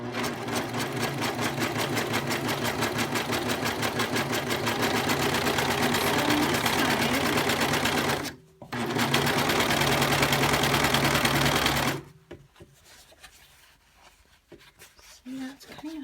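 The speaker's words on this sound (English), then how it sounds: "Now I'm going to sew it, okay?" A sewing machine stitches fabric for a doll bed in a steady, loud, fast whirring run, briefly pausing once, then falling silent after about twelve seconds.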